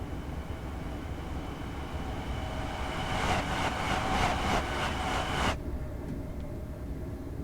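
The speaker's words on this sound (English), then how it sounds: "it uses the Class 700 enhancement pack sounds for the 385" A Class 385 electric train in Train Simulator Classic, using Class 700 sound pack audio, hums along steadily with a faint whine, then a burst of rhythmic clattering rises briefly before cutting off abruptly.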